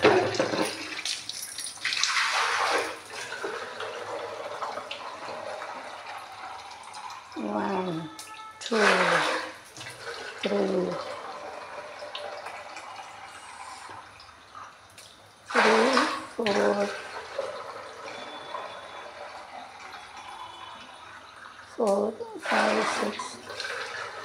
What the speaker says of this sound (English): The water is coming like a flood also.